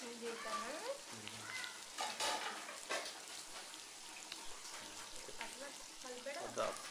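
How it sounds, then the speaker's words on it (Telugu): Chicken sizzles on a hot tawa, oil crackling steadily while the pan is tossed and stirred without a ladle, scraping and clattering now and then. A voice talks over the cooking. "ఇందులో గరిటె యూజ్ చేయకుండా పాన్నే తిప్పుకుంటూ ఉండాలి, ఇలా కదుపుకుంటూ ఉండాలి."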